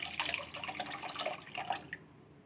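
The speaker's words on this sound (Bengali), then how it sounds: "তার জন্য আমি দুধ দিয়ে দিলাম, 500 মতন দুধ দিয়ে দিলাম" Around 500 ml of milk being poured into a cooking pot, a soft continuous liquid splashing and trickling that runs steadily and then tapers off near the end, quiet and close.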